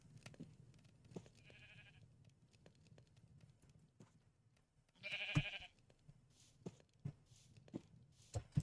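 Sheep in the Aetherial Airships video game bleat intermittently, two or three distinct calls over soft clicks and light footsteps, fairly close but quiet.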